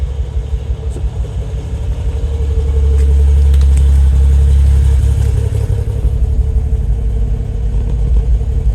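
An Autozam AZ-1 kei car running on a Keisport ECU in a garage, its small engine idling with a steady loud low rumble that swells a little midway and then settles back, with no voices.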